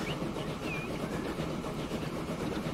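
Train arriving at a station in the video game Transport Fever 2, a steady rolling rumble with faint clatter and a brief high squeal, continuous throughout with no talk.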